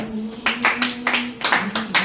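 Several people clap together in a steady beat along with a Telugu devotional song sung at home, with roughly six or seven sharp claps over two seconds and a sustained sung tone underneath.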